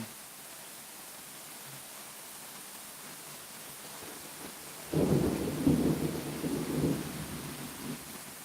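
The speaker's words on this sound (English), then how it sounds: "It is pouring" Steady pouring rain hisses throughout, then a deep rumble of thunder rolls in about halfway and grumbles on to the end.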